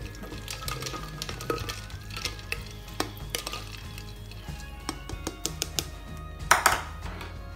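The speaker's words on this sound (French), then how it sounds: "Et on vient mélanger nos arômes avec une grande cuillère, comme ceci." A large spoon stirs a flavoured water drink with mint and lime in a dispenser, giving a steady run of light clinks and swishes with a brief louder rattle near the end.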